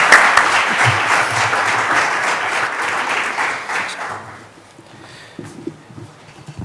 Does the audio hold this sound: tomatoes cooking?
no